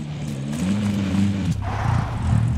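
Engine of a car driven in Call of Duty: Modern Warfare, a steady mid-level drone with a brief shift partway through as it keeps moving.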